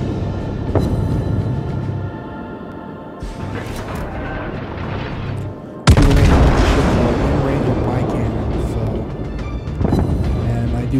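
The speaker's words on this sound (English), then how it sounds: "I do have some big cannons. I am a battleship." Battleship cannons fire in the naval video game World of Warships, with heavy booming salvos and a sharp, loud blast midway, set against continuous engine and sea rumble while someone talks.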